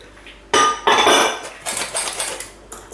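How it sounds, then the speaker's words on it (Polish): Flour being folded into sponge cake batter in a bowl: close, loud clinks and scrapes of a utensil against the bowl in several uneven bursts. "Całość dokładnie ruchem półkolistym i mieszamy"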